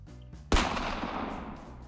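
A single loud, sharp gunshot in the video game Minecraft, a sudden close blast followed by a long decaying rumble over quiet background music.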